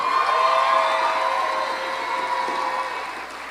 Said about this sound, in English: Let me call for a bigger round of applause than that.